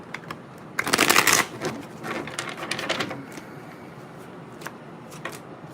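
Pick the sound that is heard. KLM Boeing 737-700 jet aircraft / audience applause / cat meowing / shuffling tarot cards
shuffling tarot cards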